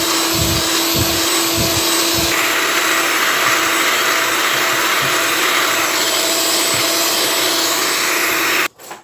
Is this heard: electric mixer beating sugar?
yes